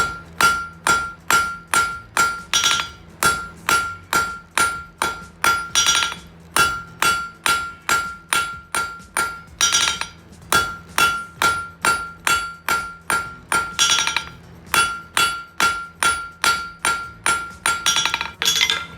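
Steady rhythmic hammer blows ring out on hot steel as a taper is forged for coat hooks, about two strikes per second with metallic clinks between, loud and close with no talk.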